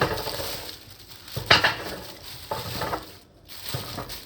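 Onions dropped into a hot pan, giving a steady close sizzle with a clattering toss about midway and a few lighter scrapes and taps of cookware.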